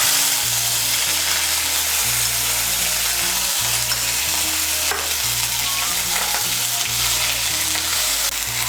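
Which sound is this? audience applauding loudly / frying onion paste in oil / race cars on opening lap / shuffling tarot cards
frying onion paste in oil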